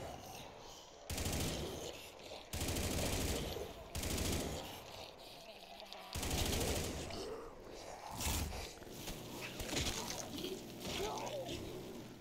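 Bursts of machine-gun fire from an M60-style light machine gun in Black Ops 3 Zombies come in several rapid volleys separated by short pauses, set against game ambience with some background voice.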